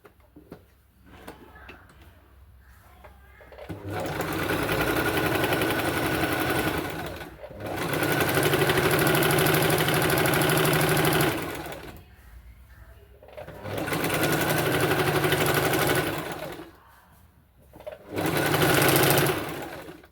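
Sewing machine stitching a chudithar pant, running in four long loud bursts of rapid mechanical chatter separated by short pauses, close up.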